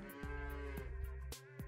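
A cartoonish cow moos in the video game Super Auto Pets, a low drawn-out bellow with stepped, synthetic pitch, played alone among short game effect sounds.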